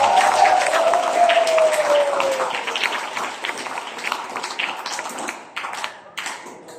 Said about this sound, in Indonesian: Beri aplaus dulu pada Pak Aulia